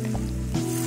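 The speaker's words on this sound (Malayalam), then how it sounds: "ഉള്ളി കാച്ചി അങ്ങോട്ട് അത് നമ്മുടെ കറിയിലോട്ട് അങ്ങോട്ട് ഒഴിച്ച്" Fried onion tempering poured into a kudam puli fish curry with no coconut or tomato, a brief close hiss and sizzle with a bubbling surge partway through the single second.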